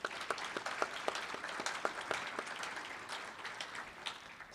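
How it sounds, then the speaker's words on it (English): Convention audience applauds panelists with sparse, distinct individual claps at a moderate distance, an uneven scattering of hands rather than a dense roar, fairly quiet throughout. "could we all just give a round of applause for our three panelists right now?"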